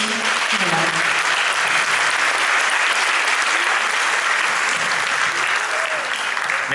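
An audience claps at a youth band event in Grande-Synthe, dense and sustained applause that fills the whole stretch at high volume.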